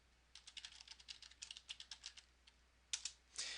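A student's name is typed on a computer keyboard into a progress-monitoring spreadsheet: a quick run of light, close key clicks, then a short pause and a couple of heavier final taps, with no voices.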